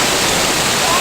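A waterfall roars nearby as a continuous, loud, broadband rush of falling water that fills the whole moment without a break.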